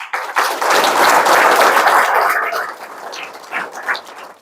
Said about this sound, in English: A round of applause to Cooper.